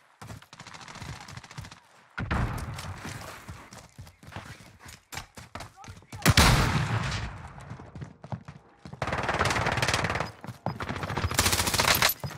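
Rapid bursts of automatic gunfire in Call of Duty Warzone, several loud volleys separated by short quieter gaps, with sharp cracks and echoing reports in an open outdoor battlefield.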